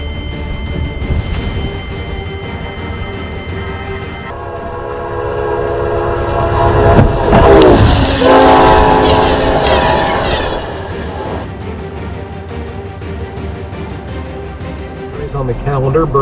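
A train rumbles past with a rising roar that peaks mid-clip, steady tonal horn-like drones underneath, then eases off; no voices.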